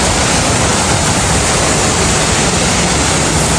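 A loud, steady roar of falling water from a waterfall in Thailand fills the air, a dense unbroken rush close by.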